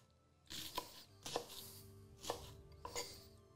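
A knife chopping spring onion on a cutting board in a home kitchen, four distinct knife strikes in a slow, uneven rhythm at close range, with no talking.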